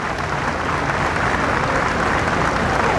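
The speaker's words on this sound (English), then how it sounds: "Tremendous applause for Nancy Reagan, which she acknowledges warmly and with a bit of a smile" Crowd applause for Nancy Reagan at a funeral, a dense, continuous roar of clapping from a large gathering, loud and even throughout with no speech.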